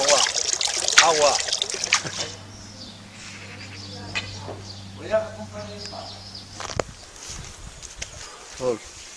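Water trickling along a stretch of the Camino de Santiago between Saint-Jean-Pied-de-Port and Logroño, faint and continuous under louder voices, a low hum and scattered footsteps or bird calls.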